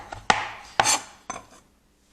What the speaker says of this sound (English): So oregano, just keep on chopping down